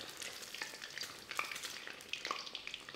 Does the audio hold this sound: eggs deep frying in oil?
yes